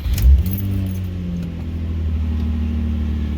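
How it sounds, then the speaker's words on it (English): Keys jingle in the ignition of a Nissan Altima with a 3.5 or 2.5 engine, then the starter cranks briefly and the engine catches, settling into a steady, close idle hum. "Let me just go ahead and start the car"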